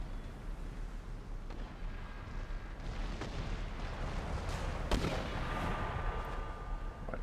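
Artillery duel in a video game: a continuous loud rumble of booming cannon fire with several sharper blasts standing out, dense and unbroken, no voices.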